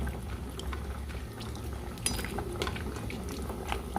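Steady bubbling of a vinegar milkfish stew boiling in a pot, with a few faint clinks of cookware over the continuous simmer.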